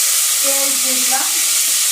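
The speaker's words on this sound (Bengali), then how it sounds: "এখানে তেল দিয়ে দিলাম, তারপরে জিরা দিলাম" Oil and cumin seeds sizzle in a hot pan while beef with potatoes is cooked, a loud, steady, close frying hiss that fills the whole moment, with a faint voice murmuring briefly underneath.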